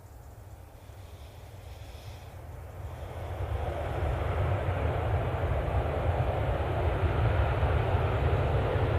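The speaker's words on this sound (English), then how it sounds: "Beautiful landing." A plane lands at Manchester Airport as a steady, distant rumble of jet engines and airflow builds gradually and then holds at a constant roar, heard alone with no voices.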